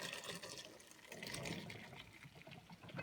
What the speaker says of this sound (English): so we drain the potatoes, carrots, and celery